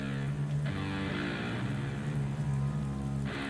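Steady rain ambience falling at night in New Donk City from Super Mario Odyssey, a continuous wash of rainfall under a soft looping musical tone.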